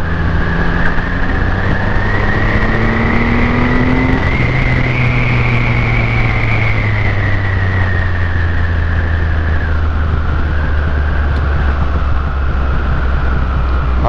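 Motorcycle engine revving hard while being ridden, a loud continuous drone whose pitch climbs, holds high and then eases slightly, with no talking over it.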